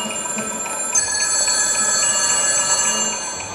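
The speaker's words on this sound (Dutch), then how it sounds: "De laatste jurk, het sluitstuk van de couture show, bestond uit 300 werkende mobiele telefoons die door het publiek werden gebeld" Dozens of working mobile phones ring together on a couture dress made of 300 handsets at a fashion show, forming a steady, layered chorus of electronic ringtones that swells slightly about a second in and holds.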